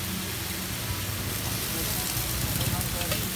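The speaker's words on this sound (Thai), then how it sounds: "มาผัดกับกะเพรา" Shiitake mushroom stems stir-fried with holy basil for a vegetarian dish give off a dense, steady sizzle that holds at an even loudness throughout.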